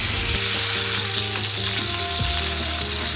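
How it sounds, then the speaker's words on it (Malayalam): Masala-coated stream fish fry in hot coconut oil with curry leaves, giving a loud, steady, close sizzle and bubbling with no talking. "വെളിച്ചെണ്ണയ്ക്ക് നല്ലപോലെ ചൂടായിട്ടുണ്ട് കേട്ടോ നമുക്ക് ഓരോരോ മീനായിട്ട് ഇട്ട് കൊടുക്കാം"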